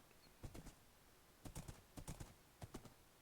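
Horse hooves clip-clop in quick clusters of three or four steps in Minecraft while the player rides, crisp and fairly quiet with short gaps between the groups.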